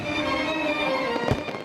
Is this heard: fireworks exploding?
yes